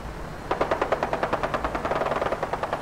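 Rapid automatic gunfire from the video game Fallout 4 rattles off in a steady, fast burst of more than twenty close, evenly spaced shots, loud and continuous with no talking over it.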